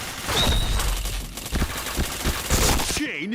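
Dense automatic gunfire in the online shooter Point Blank, rapid overlapping shots rattling continuously at close range before cutting off into a short electronic game effect.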